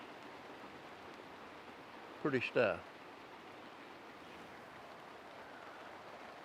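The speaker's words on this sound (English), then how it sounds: "You can probably hear the rain hitting the stuff." Light rain pattering on garden plants such as red clover, a soft continuous hiss at low level heard outdoors, with a short spoken remark briefly over it partway through.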